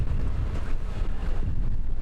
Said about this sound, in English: Engines are running.